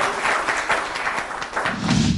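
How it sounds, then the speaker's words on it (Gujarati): A studio audience on a Gujarati game show breaks into a burst of applause, a dense wash of clapping that holds steady for a couple of seconds without talk over it. "બંને માટે જોરદાર તાળીઓ થવી જોઈએ"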